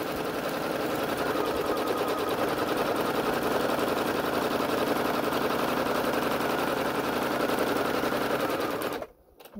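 A sewing machine stitches a fabric lunch bag in one long, steady, rapid run of needle strokes, close and loud, before stopping abruptly near the end.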